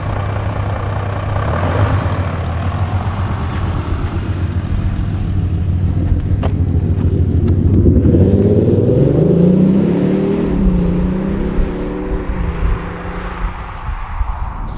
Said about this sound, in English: today I am driving the brand spanking new Audi